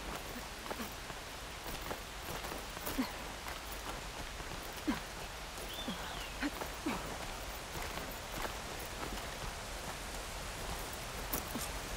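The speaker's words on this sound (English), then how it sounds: "Throw in a little rain, why don't you?" Light rain falls steadily in the video game Horizon Forbidden West near a cliffside waterfall area, a faint continuous patter with scattered soft drops and occasional footstep-like clops behind it.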